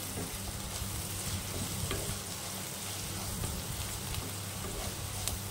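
Steady, dense sizzling of vegetables frying in a pan over medium heat, a continuous crackling hiss at close range with no voices.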